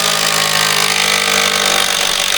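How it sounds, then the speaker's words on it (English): A DeWalt XR impact driver driving a fastener home, close and loud, with a continuous rapid rattling hammer and motor whine running steadily throughout. "when it really comes to driving that thing home, it really starts to increase how often it's impacting"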